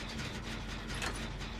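A generator being repaired in Dead by Daylight clatters with dense mechanical ratcheting and whirring, a loud continuous churn with gear-like ticks and a low engine hum running throughout.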